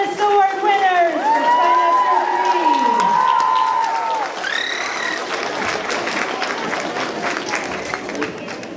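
An audience at a school's 6th grade promotion and trimester awards ceremony claps for award winners, with whoops and raised voices early on, then dense sustained applause.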